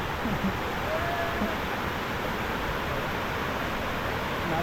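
Powerful, forceful water of the Usgoan waterfall rushing in a steady, dense roar that fills the whole stretch without pause, with no voices.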